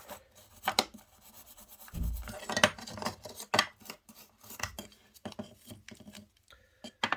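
A worn brush scrubs a grimy model 0-4-0 colliery locomotive in quiet, uneven strokes and scratches, with a few sharper scrapes as the bristles drag across the body.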